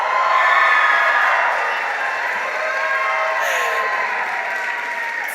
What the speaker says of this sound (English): It's gonna take a lot longer if we keep cheering.